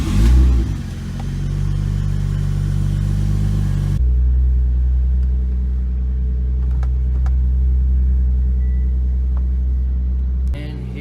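Veilside Fortune body-kit car with its engine running as it pulls out, a steady deep rumbling drone with an early rev, continuing at a constant level with a drop in tone near the end.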